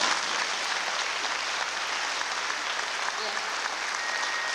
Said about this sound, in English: so you just clap and be nice for them, okay?